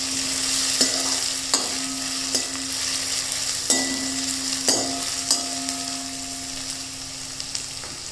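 Onions and sesame seeds stir-fried in a pan for honey chilli potato, a steady close sizzle with a spatula scraping and clacking against the pan every second or so, no talking.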